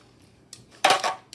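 Peppers get stirred in a small pan, giving a quick metallic scrape and clatter of utensil on pan, one faint tap followed by a brief louder burst, close up.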